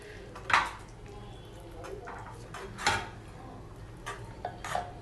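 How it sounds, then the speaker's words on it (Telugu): A spoon stirring fenugreek leaves into a curry in a pan, with a few sharp metallic clinks and scrapes against the pan spaced over several seconds above a low, quiet background. "మెంతాకు అంతా కూడా బాగా కర్రీలోకి కలిసేటట్టు మిక్స్ చేసుకోవాలండి"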